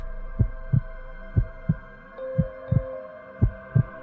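Slow, deep heartbeat thumps, about eight strong low beats spaced irregularly over a steady hum, played as a sound effect while a man takes slow breaths before swimming in cold water.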